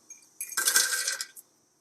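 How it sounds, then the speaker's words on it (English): Walnuts poured into a blender jar, a short clattering rush of hard pieces striking plastic, close and clear with no talking, trailing off into a last few rattles. "So I'm just going to add walnuts to blender."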